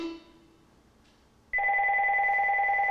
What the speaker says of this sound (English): We got a phone call in here.